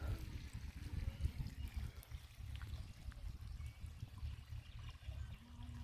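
Water trickles and splashes steadily from a 63mm outlet pipe of a 900W BLDC motor pump, fairly quiet, with a low rumbling burble underneath.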